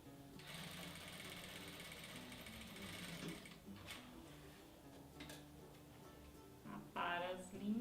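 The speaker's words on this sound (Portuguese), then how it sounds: "Então só bater uma costurinha aqui, ó, na parte do forro" A sewing machine runs in steady bursts, stitching the lining of a fabric phone accessory holder, its rapid mechanical whir close and clear, with brief pauses, fabric handling and a soft voice near the end.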